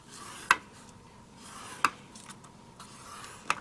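Cardstock is scored along quarter-inch lines with a scoring tool, three short sharp scrapes spaced well apart over a quiet background.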